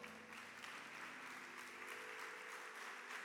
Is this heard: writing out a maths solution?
no